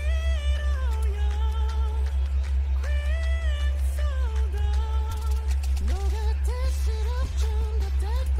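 A kitchen exhaust fan runs as a steady, loud low drone throughout, with voice-like tonal sounds rising and falling above it.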